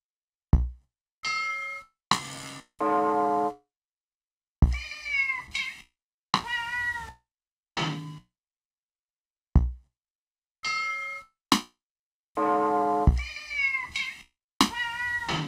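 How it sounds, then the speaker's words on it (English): A Yamaha RX5 drum machine plays a pattern of custom TR-606 sounds, short pitched hits and tonal stabs falling in a sparse, gapped rhythm with silence between each, clear and close. "And now we can add some of those parts to the pattern with our custom sounds."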